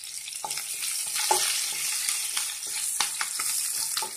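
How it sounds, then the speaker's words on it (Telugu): Mustard seeds, cumin, green chillies, urad dal, dried red chillies and curry leaves tempering in hot oil, a close steady sizzle with scattered crackles and pops. "ఇప్పుడు మనము పోపు దినుసులు వేసుకున్నాము ఆవాలు జీలకర్ర పచ్చిమిరపప్పు మినపప్పు ఎండుమిర్చి అండి ఇవి వేసేసుకున్నాము"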